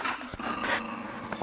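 A dog growls up close, a low, rumbling snarl with brief sharp yips mixed in, loud and tense over about a second and a half.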